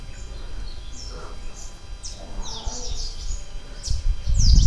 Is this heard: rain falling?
no